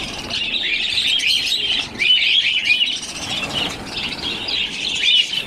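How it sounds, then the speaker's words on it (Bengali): Budgerigar chicks in a bird shop chirp and twitter continuously, a dense overlapping chorus of high, thin calls with no talking. "এখানে দেখতে পাচ্ছেন অনেক বাজিকের পাখির বাচ্চা"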